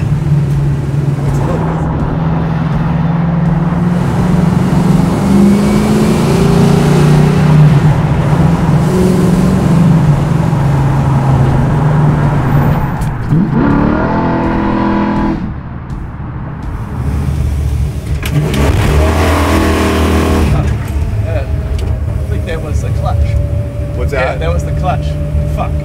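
A garage-built Plymouth Barracuda with a 440 ci V8 drones loudly and continuously while driving, its pitch rising and falling as it revs, with people talking over it.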